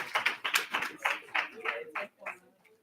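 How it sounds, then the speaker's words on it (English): A few people clap at a student senate meeting, sparse and uneven claps from a small group, fairly quiet and fading out within a few seconds. "let's give a round of applause for Pro Tempore Dewberry"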